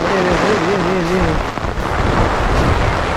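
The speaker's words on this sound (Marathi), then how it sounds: "पाऊस जाम पडत बघा" Heavy monsoon rain pours down steadily in a dense, loud hiss during rice planting in the Konkan, with a brief tonal sound near the start.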